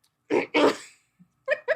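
A person demonstrates a stifled cough: two muffled, forced bursts, a short pause, then two more quick choked coughs, close and dry with silence between.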